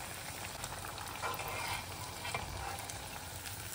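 Sabudana fries sizzle in hot oil as they are lifted out one by one, a dense, even crackle close up with faint stirring movement and no voices.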